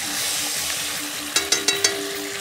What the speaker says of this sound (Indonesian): Sekarang kita tumis bawang merah yang sudah dihaluskan.